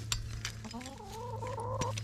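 Hens in a backyard chicken area clucking softly nearby, a rising drawn-out cluck over a steady low hum, with a few sharp scratches and taps around it.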